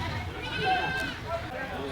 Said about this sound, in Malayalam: ഇവിടെയും ഒരു കൂട്ടം ആടുകളുണ്ട്.